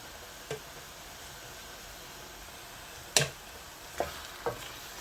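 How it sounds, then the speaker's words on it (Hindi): Saag gosht stirred in desi ghee, a faint hissing fry with a handful of sharp spatula knocks spaced across a quiet background. "तो देसी घी डाल के भी थोड़ी सी इसकी और बुनाई कर लेंगे"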